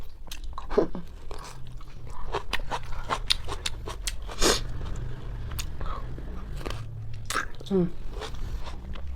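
Crisp, close-up bites and wet chewing of a tomato during a mukbang meal, with crunching and juicy squelches in an uneven rhythm and soft voices murmuring around them.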